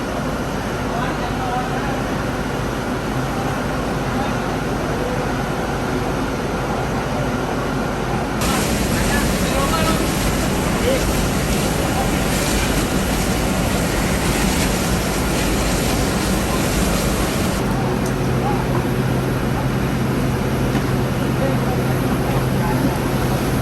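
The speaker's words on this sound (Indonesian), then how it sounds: "insenerator inilah sekarang yang digunakan untuk melumat tumpukan sampah yang ada di TPST Sandubaya ini" Superheated waste incinerator machine running at the TPST Sandubaya waste site in Mataram: a loud, continuous roaring hum that swells louder midway, with a steady drone underneath throughout.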